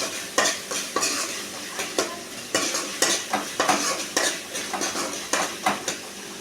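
Onions and spices sauté in a pan with coriander and mint as a spoon stirs them for green pea sundal. Rhythmic scraping strokes repeat close up over a soft sizzle, with no talking.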